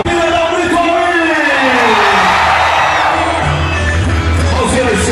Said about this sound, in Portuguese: Cadê o grito do povão? Dá um grito aí!